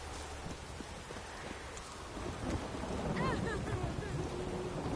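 Rain falling outdoors during a thunderstorm, a steady hiss of drops pattering on surfaces with low rumbling beneath, growing slightly louder toward the end.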